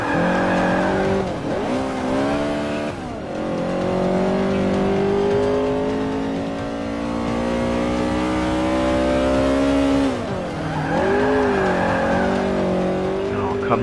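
Virtual VW Beetle 2.0L rear-wheel-drive with a Civic engine racing in Forza 5 on the Bernese Alps course, its engine droning loud and close at high revs, dipping briefly at gear shifts before climbing again.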